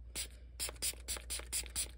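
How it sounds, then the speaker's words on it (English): Fragrance spray misted generously inside a container for a DIY Christmas bath soak, heard as a series of about six short, close hissing bursts with brief gaps between them. "we're gonna generously spray the inside of the container"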